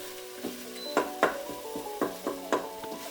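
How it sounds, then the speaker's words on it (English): A masala base sautés in a pan for Chole Bhature, a soft steady sizzle under a series of sharp scraping and clinking strokes of a spoon against the pan, irregular and close, with no talk. "Saute everything until the masala base is very dark"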